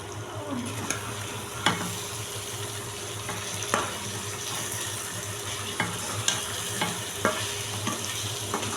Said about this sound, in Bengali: ভালো করে ভাজা ভাজা করব